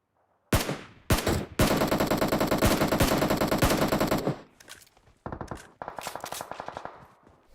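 Rapid automatic gunfire from the mobile game PUBG Mobile, a long sustained burst followed by shorter volleys of sharp shots, loud and close with no talk over it.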